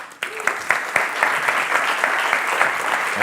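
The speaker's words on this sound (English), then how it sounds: "a big round of applause for him." Audience applause at a city science summit welcoming a speaker, breaking out abruptly and holding as a dense, steady clatter of many hands at close range for the rest of the moment.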